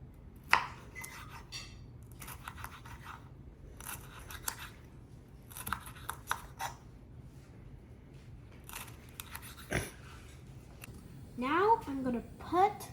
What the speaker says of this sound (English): Now I'm gonna cut my green peppers.